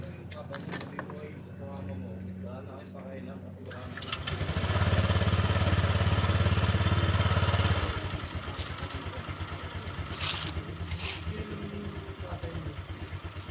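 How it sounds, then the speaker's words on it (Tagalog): A Honda Click 125i motor scooter engine, just refilled with fresh oil, cranks and catches, revving loudly for several seconds before settling into a steady idle, with metallic clatter around it. "pwede na natin i-start yung motor natin para makiikot yung bagong langis na isinali natin"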